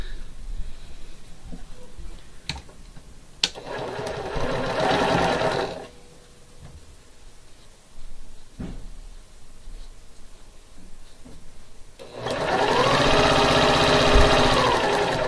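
A sewing machine stitches pieces of quilt fabric together in two bursts of fast, even mechanical whirring, the second longer and louder, with quieter handling noises and brief clicks between them.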